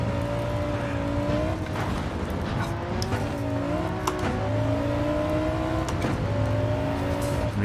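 A Honda NSX driven on a rally track in Gran Turismo 7, its engine droning and rising through gear changes with tire noise, loud and continuous without talk.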